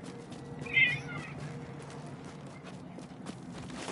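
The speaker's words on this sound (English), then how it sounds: "Cat thirsty." A cat meows once, close and clear, a short bright call standing out over a steady low indoor hum and faint background noise.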